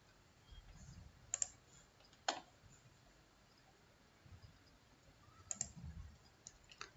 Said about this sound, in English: Click on dissolve option.